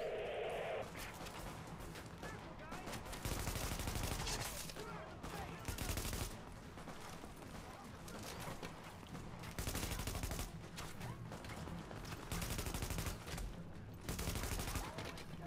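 Sustained heavy gunfire in The Division shooter, dense overlapping shots with recurring louder bursts throughout, and brief voice chatter near the start.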